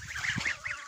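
A single short honk from a gosling, a brief nasal call heard up close.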